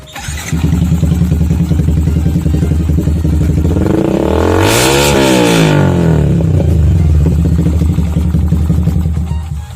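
Purple 2020 street-racing-style motorcycle with an aftermarket exhaust, running loud and close at a steady throbbing idle, then revved once in the middle, the pitch climbing and falling back before settling into idle again.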